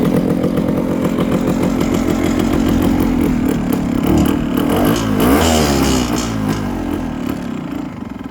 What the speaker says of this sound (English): Now the bike's on choke at the moment.